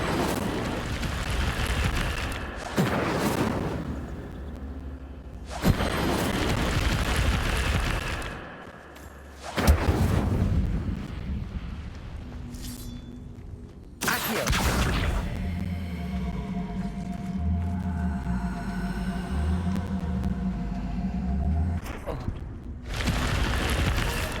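Incendio fire spell cast in the Hogwarts Legacy video game, heard as repeated loud whooshing bursts of flame with booming impacts, layered over game music and ambience.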